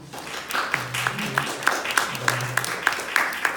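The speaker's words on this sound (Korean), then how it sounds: "박수 한 번 더 해주십시다" Church congregation at a Stony Brook church worship service claps in a steady, evenly spaced rhythm of sharp hand claps, alongside sustained voices.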